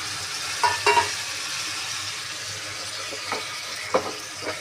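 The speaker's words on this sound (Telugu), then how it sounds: "చికెన్ అయితే వేస్తున్నాం." Half a kilo of washed chicken tipped into a Telangana-style curry pan and stirred, giving a steady frying sizzle broken by a few scraping, clattering stirs, close and alone.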